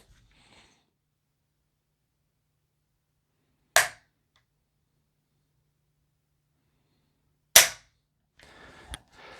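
Trigger on a CZ Bren 2 MS carbine, dry-fired at a tabletop: two sharp, isolated mechanical snaps spaced several seconds apart in near silence, followed by faint handling rustle and another small click at the end.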